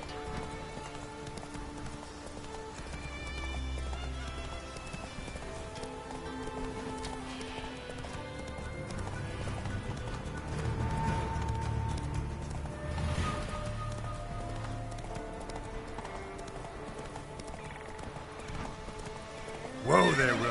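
Geralt's horse Roach gallops in The Witcher 3: Wild Hunt, with rapid hoofbeats running under music and talking voices, ending in a neigh near the finish.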